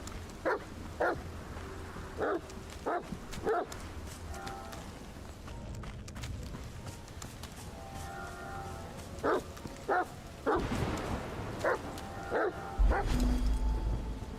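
A dog in the video game Mask of the Medium barks in short repeated bursts, separated by pauses, over a low ambient game backdrop, with no speech.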